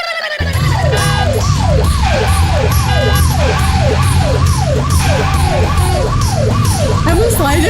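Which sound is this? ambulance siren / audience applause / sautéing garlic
ambulance siren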